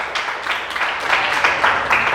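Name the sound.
congregation clapping for the Lord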